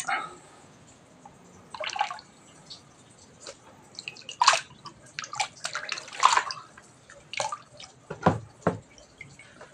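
Liquid poured into the middle of spread catfish eggs during breeding, heard as close, irregular splashes and trickles with brief louder gushes, no talk over it.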